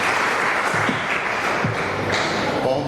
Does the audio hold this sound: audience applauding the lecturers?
yes